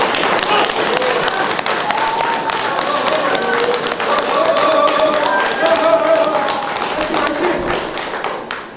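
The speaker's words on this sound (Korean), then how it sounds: "박수." A crowd at a political rally in Suncheon claps and applauds steadily for several seconds, the dense clapping fading out at the end.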